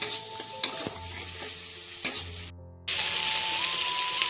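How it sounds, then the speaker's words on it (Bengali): A ladle stirs ginger, garlic and cumin paste frying in oil for a pointed gourd mustard-poppy seed dish, giving a close, steady sizzle broken by a few scraping strokes and a short gap. "এবারে হাতা নিয়ে 2-3 মিনিটের মতো নাড়া দিতে হবে।"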